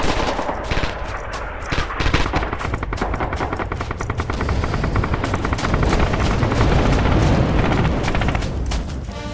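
Dense gunfire fills a winter forest battle in the video game Rising Storm/Red Orchestra 2, with rapid machine-gun bursts and single shots crackling nonstop alongside heavy booms, loud and continuous.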